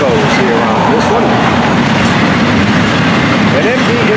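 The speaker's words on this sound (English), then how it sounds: "Back to back on the point of that train." Freight train led by back-to-back SD40 locomotives rolling past, a steady loud broadband rumble with rail noise and faint clicking throughout, no pauses.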